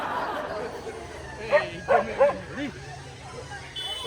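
A few short dog barks or yips come in a quick cluster midway, fairly close, over a low background of chatter and voices.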